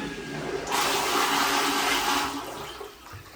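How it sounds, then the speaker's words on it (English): A toilet in a remodeled bathroom flushes in a loud, close rush of water that surges for about two seconds and then fades into a quieter refill gurgle. "You didn't think you'd be watching a toilet flush on the Billy channel, did you?"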